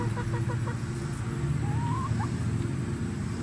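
Chickens in a chicken tractor on a homestead cluck and murmur steadily, with a rooster-like call rising briefly in the middle, all under a constant low background hum.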